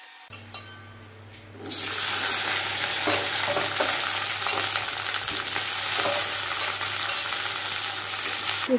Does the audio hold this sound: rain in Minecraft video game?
no